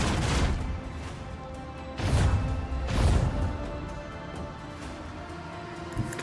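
Warship cannon salvo in the video game Rogue Trader, a series of heavy crashing booms in quick succession over a continuous rumbling bed, loud and close.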